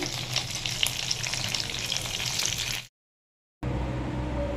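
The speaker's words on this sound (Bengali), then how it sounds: "মাছটা আমি আগে ভেজে নিচ্ছি।" Katla fish frying in hot oil, a steady close crackling sizzle that cuts out briefly near the end and then comes back.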